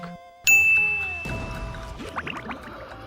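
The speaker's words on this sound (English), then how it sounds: "why is Bailey's ringtone the Invader Zim theme" A phone ringtone plays the Invader Zim theme as a bright electronic melody of ringing tones and quick rising notes, fairly loud and up close with no one talking over it.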